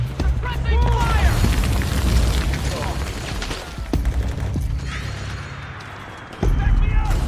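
A grenade blast in the video game Metal Gear Solid 4 booms amid ongoing gunfire and battlefield rumble, with soldiers shouting over the combat.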